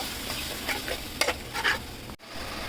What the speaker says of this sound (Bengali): সেই মশলাগুলো দিয়ে দিলাম দিয়ে এখন মশলাটা আস্তে আস্তে কষাবো দু তিন মিনিট